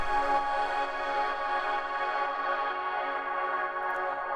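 A Europa synth pad with added chords forms a dense, shimmering wash of sustained harmonic tones, steady and fairly soft, with no voice over it.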